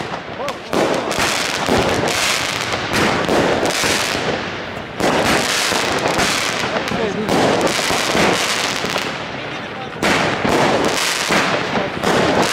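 Dense volleys of firework bangs and crackles burst in rapid clusters, with brief lulls between bursts, loud and close.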